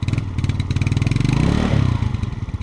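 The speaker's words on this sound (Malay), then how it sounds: "Jom kita dengar bunyi enjin dia." Close, loud Yamaha Ego motorcycle engine running with a rapid pulsing idle that swells in a brief rev and then settles back, alone without talk.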